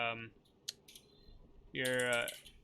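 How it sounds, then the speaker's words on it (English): Typing on a computer keyboard comes through as faint scattered clicks between stretches of speech, quiet and in the background. "Because I can hear all your typing."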